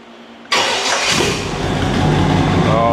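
A T-bucket hot rod engine with leaky manifold gaskets cold-starts abruptly after a quiet moment, then settles into a loud, steady, close-up idle that stays rough and broadband.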